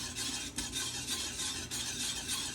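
Cornmeal being whisked into a pot of boiling water for fungi: steady, close, continuous scraping and stirring with a soft bubbling hiss, briefly dipping twice before resuming.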